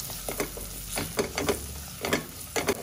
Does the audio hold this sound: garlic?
yes